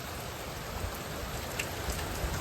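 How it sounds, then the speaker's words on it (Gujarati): Dense, steady hiss of rain pouring down, constant throughout with faint patter of drops on surfaces. "તો ગાઈઝ બહુ વરસાદ પડે છે. જોઈ શકો છો તમે."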